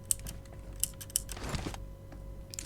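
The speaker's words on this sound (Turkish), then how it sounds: "klavyenin sesinden özür dilerim" Computer keyboard typing during a PUBG gaming session: a few sharp, isolated key clicks spaced irregularly, close and fairly quiet, with a brief rustle between them and no talking.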